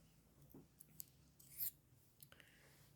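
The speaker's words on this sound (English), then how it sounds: "And this is where I cut the yarn." Scissors snip through chunky knitting yarn after the decrease rows on the crown of a beanie, a short quiet rasping cut or two that stands alone against faint background.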